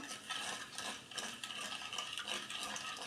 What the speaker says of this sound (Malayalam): ഇതിലേക്ക് ഈ പഞ്ചസാരയൊക്കെ നന്നായി മെൽറ്റ് ആവണ വരെ നമുക്ക് നന്നായി മിക്സ് ചെയ്ത് കൊടുക്കാം.